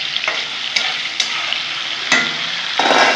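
Tengra fish frying in hot oil in a home kitchen, a continuous sizzle broken by several sharp stirring scrapes and spatters, louder near the end.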